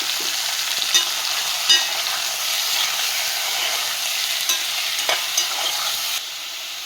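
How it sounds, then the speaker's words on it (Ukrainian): Chicken pieces fry in oil in a pan for kulish, a loud, steady hiss of sizzling with occasional soft knocks of stirring, and no talking. "М'яско підсмажуємо"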